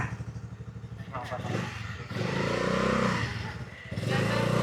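A Honda Navi scooter-style motorcycle engine runs just after ignition, a low steady idle that swells slightly, heard nearby with people talking over it.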